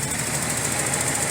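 Datsun 280ZX engine running while warming up toward overheating, a steady close rumbling drone with a rapid knocking pulse and no pauses.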